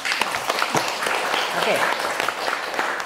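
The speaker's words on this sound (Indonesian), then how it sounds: "Tepuk tangan untuk kelompok 4 dong" A classroom of health-polytechnic students applauds a student group after its presentation, a dense patter of clapping filling about three seconds while a voice speaks over it.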